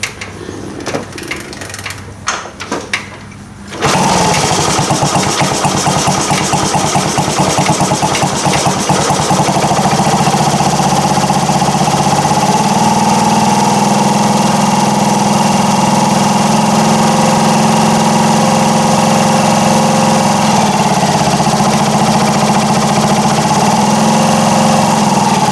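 A 1978 Indian moped's small engine starts after a few seconds of quiet fiddling, then idles steadily and loudly up close with a buzzy, even drone that holds for the rest of the clip with the choke off.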